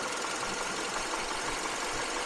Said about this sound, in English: I don't know if you heard the tone change in the engine